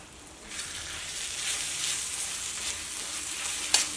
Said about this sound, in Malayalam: ഇതൊന്ന് ഇളക്കിയിടാം.